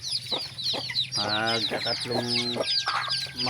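Chickens cluck repeatedly in short bursts, with chicks peeping high and busy in the background, all close by.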